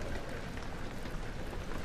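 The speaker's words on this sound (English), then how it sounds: "Oh, it's raining." Steady rain hisses as a dense, even wash of drops in the video game Amnesia: The Dark Descent, continuous and moderately faint with no talking.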